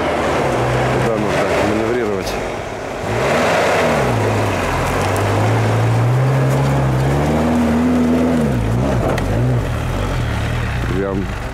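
A UAZ Patriot off-road SUV engine revs hard on a run-up over rough terrain, rising and falling in pitch, loud and close, with a voice talking over it.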